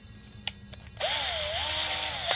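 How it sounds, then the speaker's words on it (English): Cordless drill gun with a 7/64 bit, a few light clicks followed by the motor spinning up into a loud, steady whine with a wavering pitch as it bites in, close by. "Now I'm going to take my drill gun and my 7/64 bit."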